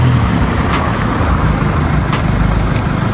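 A car rolls slowly into a hotel's gated parking area on a Germany-to-Pakistan road trip, a steady close engine rumble with faint traffic noise, no voices.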